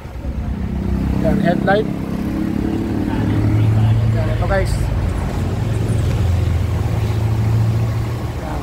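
A Mitsubishi Adventure engine idles steadily with the aircon on, a close, constant low hum and hiss. Someone talks over it.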